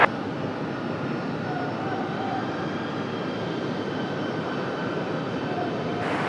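A jet takes off from runway 23 left at Raleigh-Durham International Airport, a steady distant engine roar and rumble holding level throughout, with no voices.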